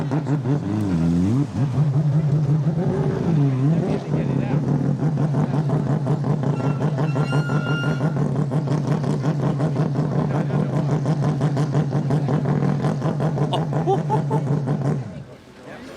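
Mazda 787B rotary-engined race car screaming at high revs, a loud, sustained droning howl with a couple of quick blips near the start, heard up close under an excited voice talking over it.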